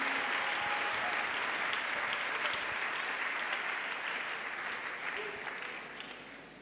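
A large congregation applauds and cheers at an evangelistic crusade gathering, a dense, loud wash of clapping that holds steady and then gradually fades toward the end.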